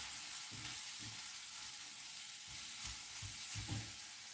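A sweet potato dish sizzles quietly in a pan while it is stirred, giving a constant soft hiss broken by a few low, close scraping thumps, with no voices.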